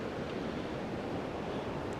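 A river running larger and harder than usual rushes steadily during a trout fishing trip, a constant broad wash of water noise close by with no talking.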